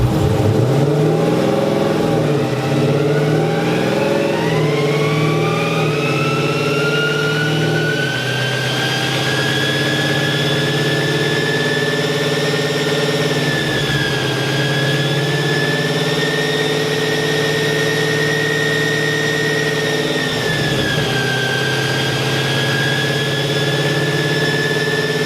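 A 2021 Scat Pack HEMI V8 runs on a dyno during a tune, a loud sustained engine drone that climbs in pitch as revs build, holds high with slight dips, and continues steadily throughout.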